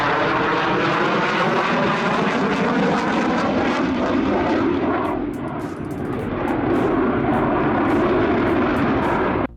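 Aircraft engines roar loud and close through an airshow stall and drop maneuver, a dense sustained drone that briefly dips and wavers in pitch mid-way before swelling back to full power.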